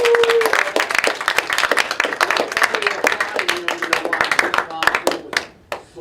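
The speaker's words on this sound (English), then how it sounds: "How about a big round of applause for our very own Miss Thomas?" A school crowd applauds a Teacher of the Year honoree with loud, crisp, close clapping and cheering voices, then the clapping thins to a few sharp individual claps at the end.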